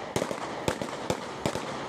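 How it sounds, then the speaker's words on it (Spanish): Police officers fire on a truck driver, heard in news footage as four sharp, loud gunshot cracks spaced roughly half a second apart. "Ahí se ve cuando los oficiales intentan alcanzar a este mientras disparan contra el"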